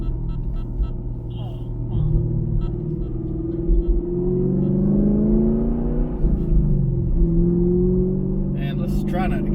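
A 2017 Camaro SS 1LE fitted with a Corsa Xtreme catback exhaust cruises on the highway, its steady exhaust drone and road rumble rising and falling slightly as engine pitch shifts through gears.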